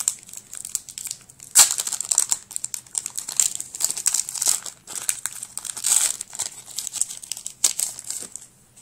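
A Pokémon card booster pack from the Platinum set crinkles and tears as it is opened, with close, bright plastic-wrapper crackling in irregular bursts and crisp rustles for several seconds.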